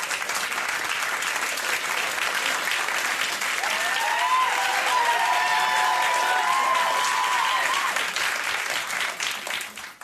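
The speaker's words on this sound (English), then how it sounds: "Spontaneous applause just breaking out on this show tonight." A studio audience at a television comedy show breaks into sustained applause, dense clapping holding steady for about ten seconds, with a brief voice cutting through midway before the applause tapers off.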